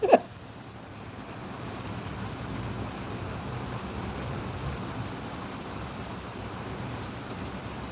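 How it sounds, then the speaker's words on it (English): Storm rain falls as a steady, soft hiss after a brief bump at the start, faint and continuous with no talking. "Let's listen to the storm for a little."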